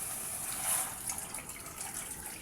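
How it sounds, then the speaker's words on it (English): Hot water pours and splashes steadily into a pot on the fire, a close, hissing flow that swells briefly and then holds even. "So let me add in some water. I have hot water."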